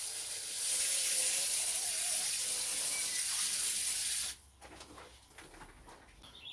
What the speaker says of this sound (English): So now we'll just give it a quick watering.